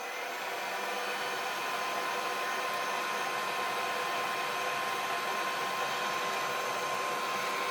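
A hair dryer blows hot air over freshly glued card pieces during card making, a steady, loud whooshing hiss that holds unbroken throughout with no talking.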